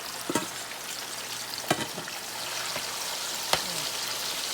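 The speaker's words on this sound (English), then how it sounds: "I'm gonna let it fry like that, guys, for 5 minutes" A steak sizzles and fries in hot oil in a pan, a steady crackling hiss with a few sharp pops and clatters of handling, no talking.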